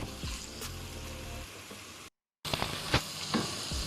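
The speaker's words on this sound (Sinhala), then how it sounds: "ලුණු ටික තෙරට දාලා මෙහෙම කලවම් කරගන්න." Salt being stirred into kabsa frying in a pan, heard as close, steady sizzling with scraping stirs, broken by a short gap of silence and then more sizzling with sharper scrapes.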